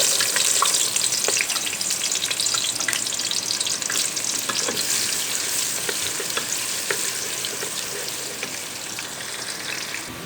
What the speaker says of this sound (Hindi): ऑयल हमारा गर्म हो चुका है, इसमें हम प्याज डाल देंगे